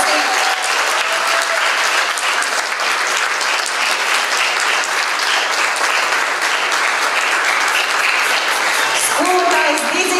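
Loud, sustained applause fills a cultural hall during a student concert, a dense wash of many hands clapping without pause, with faint voices surfacing near the end.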